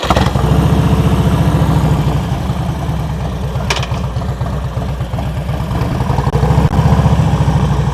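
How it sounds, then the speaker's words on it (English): A motorcycle engine during slow-speed riding practice, idling and rising in steady throttle blips, with a continuous close, loud mechanical chug throughout. "Listen to that throttle"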